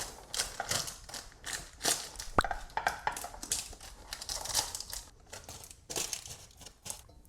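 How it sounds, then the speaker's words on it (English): A sticky peanut butter cereal mixture is pressed into a greased pan, giving close, crunchy crinkling and crackling in a steady uneven rhythm of pushes, with one brief sharp tap partway through and no talk. "press your cereal into an even layer, filling up your pan"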